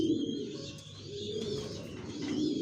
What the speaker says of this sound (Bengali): ডাউন শেপের নর, ডিম নিয়ে বসা আছে, জনসন লাইন লংয়ের।